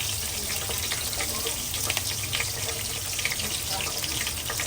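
Curry leaves dropped into hot oil with asafoetida for a Gujarati tempering give a steady, dense sizzle and crackle throughout, with a faint low hum underneath.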